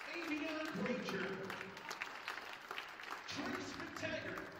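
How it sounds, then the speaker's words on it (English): Applause from the gym crowd at a high school basketball game between CNS and the visiting Corcoran Cougars, a steady broadband clapping wash lasting several seconds under a public-address announcer's voice. "A nice round of applause for the Cougars."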